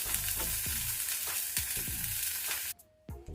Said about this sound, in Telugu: చూడండి, ఈ కొత్తిమీర అంతా కూడా వేగింది కదా.